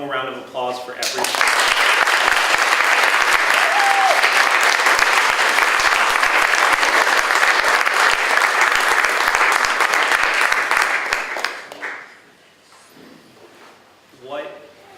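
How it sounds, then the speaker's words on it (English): A school audience gives a long round of applause for upper elementary student speakers, loud and sustained for about ten seconds before fading into quieter room sounds and a voice. "Could I get one more round of applause for everyone?"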